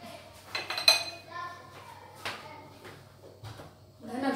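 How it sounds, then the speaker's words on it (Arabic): A metal frying pan is picked up and handled in a home kitchen ahead of being greased with oil, giving a few clanks and clinks of pan against utensils between quiet pauses, with a voice briefly heard. "غادي ناخذ هاد الطاوة البنات، فانا غادي ندهنها شوية"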